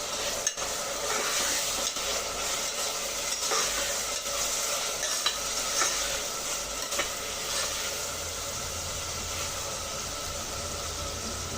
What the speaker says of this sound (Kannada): ಇವಾಗ ಇದನ್ನು ಚೆನ್ನಾಗಿ ನಾವು ಫ್ರೈ ಮಾಡಬೇಕಾಗತ್ತೆ.